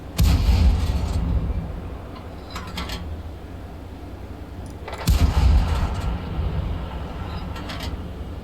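A tank cannon in World of Tanks fires two heavy blasts several seconds apart, each a deep rumbling boom over a steady mechanical engine drone.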